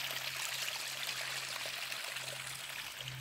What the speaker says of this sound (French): Je suis au niveau d'un tout petit ruisseau.